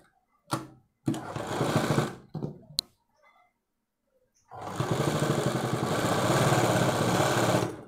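Sewing machine stitching piping on a blouse collar back neck: a few short whirring bursts and clicks, a quiet pause, then a long steady run of fast close stitching with no speech.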